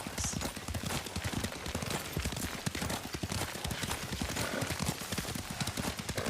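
Horse hooves clip-clopping at a steady riding pace in the feudal Japan game Ghost of Tsushima, a rapid rhythmic patter with a voice speaking over it.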